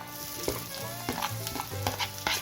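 Onions and green chillies sizzle in a pan with ginger and garlic for an apple curry, giving a close, steady fry punctuated by repeated stirring scrapes and knocks, with no voices.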